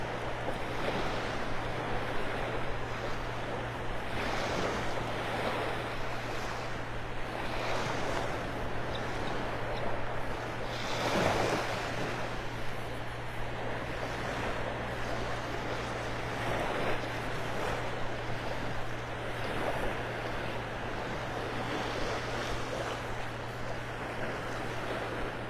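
Small waves lap on a sandy beach beside a sandbar at Clam Pass Park on a foggy morning, a steady soft wash with gentle surges under wind noise, no talking.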